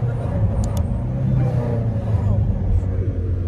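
A BMW X6M tuned past 750 hp with an Akrapovic exhaust and downpipes gives a deep, loud, continuous engine rumble close by, holding steady for several seconds, with voices faintly under it.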